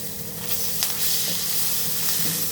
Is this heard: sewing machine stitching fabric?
no